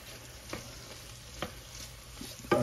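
Onions fry in a pot while being stirred, a faint, steady sizzle with a few soft scraping strokes of the spoon, ending in a louder stir.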